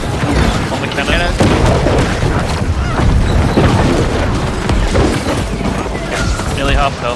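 Cannon fire in a naval pirate video game battle, repeated heavy booms and crashes layered through a dense, loud mix under frequent excited talk from players.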